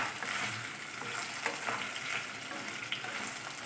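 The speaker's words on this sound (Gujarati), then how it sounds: "બસ 2-3 મિનિટ આવી રીતે વઘારી દઈશું" Bitter gourd muthiya, steamed bitter gourd dumplings, sautéing with sesame seeds in a pan over a low flame, giving a steady close frying sizzle with a few soft stirring scrapes throughout.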